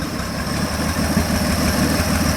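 A boosted truck's 250 engine idles steadily at operating temperature with a low, rhythmic rumbling chug, close and continuous, no voices.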